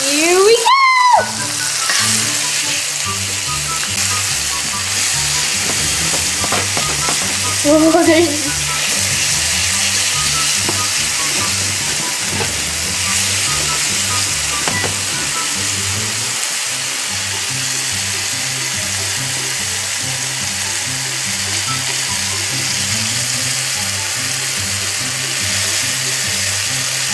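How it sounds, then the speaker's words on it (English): Morel mushrooms sauté in a pan with a steady, loud sizzle that runs throughout. A sharp clatter opens it and brief stirring scrapes break in partway, with no clear speech over the frying. "Okay, you have to keep sauteing it."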